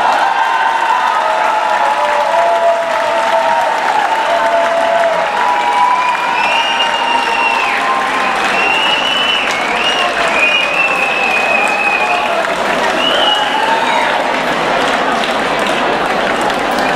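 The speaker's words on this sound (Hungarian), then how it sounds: "Egy nagy tapsot kérek a Hajdúvén csapatára!" A crowd at a Christmas party applauds loudly and without a break for a long stretch, with whoops and voices mixed into the clapping.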